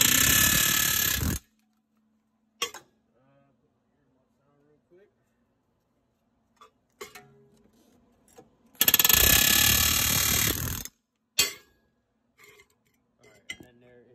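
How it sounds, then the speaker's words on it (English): An air hammer smacks the stud of a tension strut on a Dodge Magnum, 300 or Charger in two loud, sharp bursts separated by quiet gaps, with brief clanks of tools in between. "I do have an air hammer"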